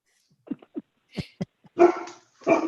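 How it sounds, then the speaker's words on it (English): A dog barking several times in a quiet indoor setting, short sharp yips followed by two louder, fuller barks, close to the microphone and with no talk. "sorry, my dog"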